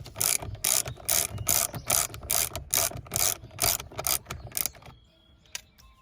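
A hand ratchet removing the steering wheel bolt on a Mercedes S430 gives about a dozen rapid, loud, evenly spaced clicking bursts up close, then falls quiet apart from one faint tap, with no voices.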